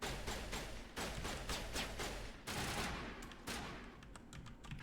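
Shotgun fire in the video game Mass Effect during a side mission, rapid repeated blasts in quick bursts, loud and close, no talking.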